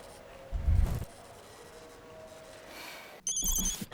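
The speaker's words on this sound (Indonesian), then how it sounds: "Gue telepon deh, si Beta di mana?" Telephone ringing during a phone call, two short bursts of ringing, one near the start and one near the end, with a quieter stretch in between and no talk.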